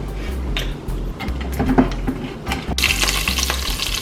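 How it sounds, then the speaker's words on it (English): Close, loud sizzling of hot oil in a pan before meat is added for brown stew chicken, crackling and hissing steadily, with a few stirring scrapes and a brighter burst of frying near the end. "when this starts sizzling"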